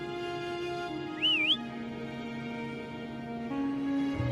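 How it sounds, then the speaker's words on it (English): A game character in Wuthering Waves whistles to call a companion: one short, clear whistle that rises and dips, over sustained background music. "Why don't you call Foam over? Try whistling."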